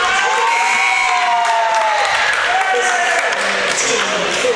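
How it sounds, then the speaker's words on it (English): Basketball arena crowd at a men's college game cheering and applauding the referee, a steady wash of shouts and claps filling the gym with whistling voices on top, loud and continuous. "A little round of applause for the referee."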